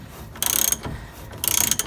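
Ratchet wrench clicking as it turns a heated bolt during transaxle removal on a 1958 VW bus, two quick bursts of close, sharp ratcheting clicks separated by a short pause.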